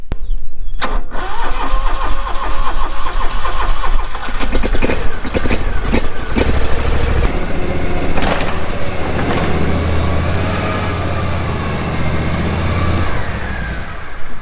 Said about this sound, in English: I got the mower all washed up. I'm gonna pull it in the shop.